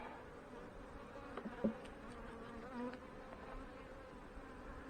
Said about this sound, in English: You can see that there's not many bees up here working.